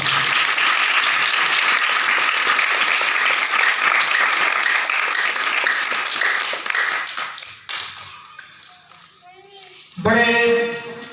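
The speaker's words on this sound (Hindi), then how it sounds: "तालियों के साथ खुशी का इजहार करें।" Church congregation applauding in loud, sustained clapping for several seconds, then fading as someone speaks, followed by a burst of noise and voices near the end.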